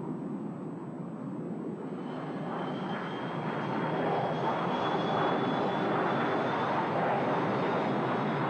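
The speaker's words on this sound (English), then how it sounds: "Soviet aircraft." Soviet aircraft engine droning overhead, a broad steady roar that slowly swells louder and holds, with no talk.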